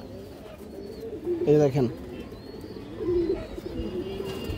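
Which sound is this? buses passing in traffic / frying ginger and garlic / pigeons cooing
pigeons cooing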